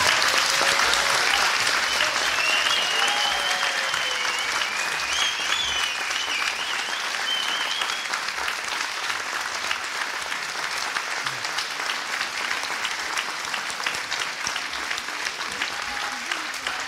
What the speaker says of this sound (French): Vous pouvez l'applaudir parce que c'est pas facile de venir déclamer des vers devant les politiques.